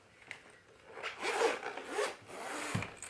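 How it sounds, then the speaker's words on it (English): A zipper runs around a planner case in several close, raspy pulls, each a rising scratchy sweep, ending with a soft thump. "So let's zip this one back."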